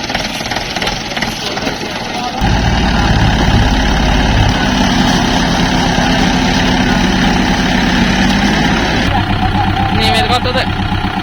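A Kubota L4508 four-wheel-drive tractor stuck in mud has its diesel engine started and left running, a loud, steady low rumble with knocking pulses that continues for several seconds before easing off, with a voice speaking over parts of it.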